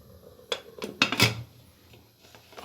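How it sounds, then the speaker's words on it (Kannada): A pressure cooker lid being closed over mushroom biryani, several close metallic clanks and scrapes bunched in the first half, then a quieter rattle at the end. "ಕುಕ್ಕರಿನ ಮುಚ್ಚಳ ಮುಚ್ಚಿ 1 ವಿಷಲ್ ಕೂಗಿಸ್ತೀನಿ."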